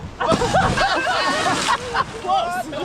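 A diver backflips off a boat into the sea off the West Coast on a spearfishing trip, splashing and sloshing loudly up close while voices talk excitedly over the water.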